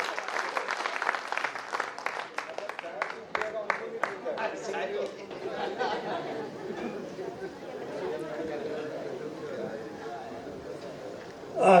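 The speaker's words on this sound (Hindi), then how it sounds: "पूरा सदन एक बार जरा जोरदार तालियों से खड़ा।" An audience at a Hindi comic poetry gathering (kavi sammelan) in Alote bursts into loud, rapid clapping that slowly fades into crowd chatter, with people talking throughout.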